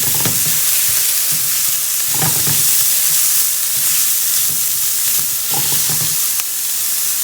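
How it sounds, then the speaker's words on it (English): Chopped onion frying with ginger, garlic and green chilies for a one-pot Indian vegetarian dish, giving a loud continuous sizzle with repeated stirring scrapes of a spoon against the pot. "Next, I'm gonna add ginger, garlic, and green chilies. Adding some chopped onion."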